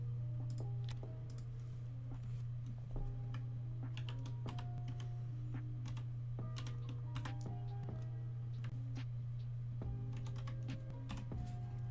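Code being typed on a computer keyboard: a steady run of close, crisp key clicks in uneven bursts and pauses, heard alone over a constant low hum.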